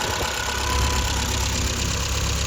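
The engine of a 1974 Triumph Spitfire 1500 idles steadily nearby, a constant low rumble with a faint even hum, unbroken and with no talking over it.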